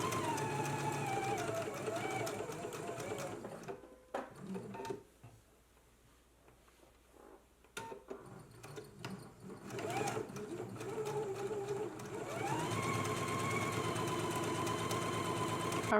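A sewing machine set to a lengthened stitch runs ease stitching along a jacket's upper collar, whirring loudly and steadily up close, then pausing for several seconds before a second long, even run.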